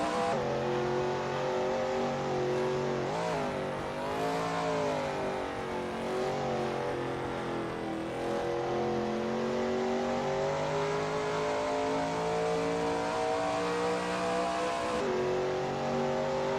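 Shelby Mustang GT350R race car engine lapping NJMP Lightning in a racing simulator, a steady loud drone that rises and falls through upshifts and corner braking, holding close and continuous throughout with no voices.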